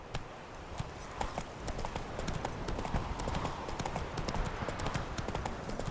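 Roach the horse's hooves clip-clop steadily at a walking pace across the ground in Witcher 3, a continuous close rhythm with a dense ambient bed underneath and no talking.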